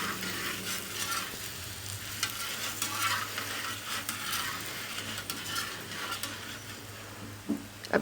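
A stuffed chana dal paratha cooks on a hot pan and is shifted about with tongs, making a continuous soft sizzle under repeated light metallic scrapes and taps, steady and close, with no one speaking.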